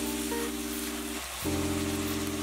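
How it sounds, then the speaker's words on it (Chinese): Fried tofu skin, dried tofu and mushrooms are stir-fried in a wok, producing a continuous close sizzle with a steady hum and a brief dip where the ingredients are tossed. "放入炸过的豆包以及豆干、蘑菇，炒拌均匀，大约1分钟。"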